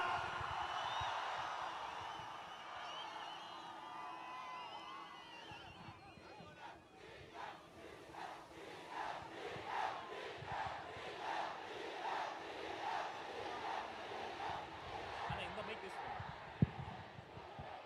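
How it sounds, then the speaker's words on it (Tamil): A large crowd at a Tamilaga Vettri Kazhagam political rally in Erode roars and cheers, settling into rhythmic chanting and clapping that pulses steadily throughout. "ஆர்ப்பரிக்கும் கைத்தட்டல் நடுவே"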